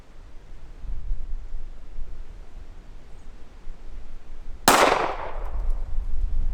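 A .45 ACP pistol fires a single sharp, loud shot at a pumpkin outdoors midway through; the crack decays quickly against steady background noise.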